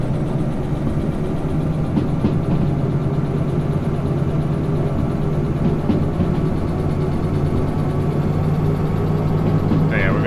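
A locomotive engine in the Derail Valley train simulator drones steadily under throttle on a grade, a loud, continuous low rumble. Faint talk sits beneath it.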